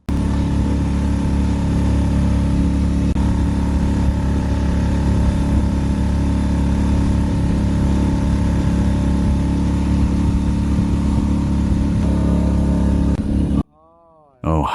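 A steady, loud engine drone runs almost without pause, then cuts out briefly near the end before resuming.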